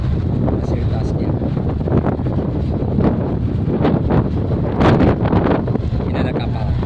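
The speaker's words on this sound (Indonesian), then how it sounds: "Angin cukup kencang." Strong wind buffets the microphone on the open top deck of an executive ferry crossing between Merak and Bakauheni, a loud continuous roar with gusty surges, while someone talks over it.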